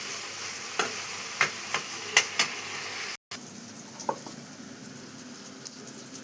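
Onions sizzle in a frying pan under a steady hiss, with a series of sharp clicks and scrapes from stirring spread across the stretch and a brief dropout partway through.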